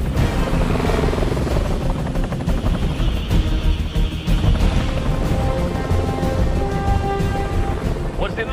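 Helicopter rotors thump loud and close in a Navy SEAL war film, a dense continuous roar with rumbling low end that fills the whole stretch.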